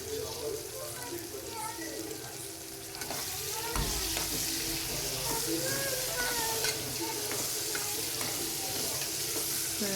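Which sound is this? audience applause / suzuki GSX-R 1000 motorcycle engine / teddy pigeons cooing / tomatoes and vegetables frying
tomatoes and vegetables frying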